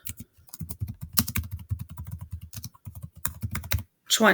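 Rapid, close clicking of keys on a Chromebook keyboard, a dense run of plastic taps with a short pause, then a brief voice at the end.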